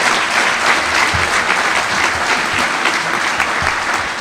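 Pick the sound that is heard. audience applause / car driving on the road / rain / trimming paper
audience applause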